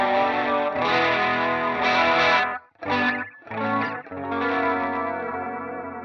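An electric guitar in drop D runs through a Flatsons KMF-1 multi-effects pedal on the Starman preset, giving thick, chorused and distorted chords that ring out, stop briefly, then return in short strummed bursts before sustaining again.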